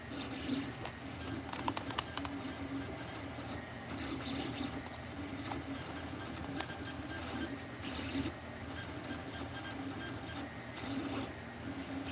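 A 3D printer runs a Benchy print, its steady mechanical whir and stepper hum broken by scattered short clicks and ticks, moderately close with no voices.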